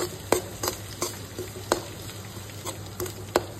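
Semolina stirred and fried in a pan, with repeated sharp scraping strokes of a spoon over a steady low sizzle, close and alone.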